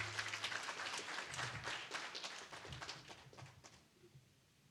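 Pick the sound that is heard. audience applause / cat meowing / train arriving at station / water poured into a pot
audience applause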